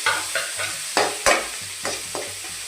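Brinjal sautéing in a pan for prawn curry: a loud close sizzle with rhythmic spatula scrapes and taps about every half second, no speech.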